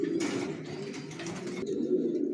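Racing pigeons coo in a low, throaty, continuous murmur at close range, with faint rustling in the background and no talking.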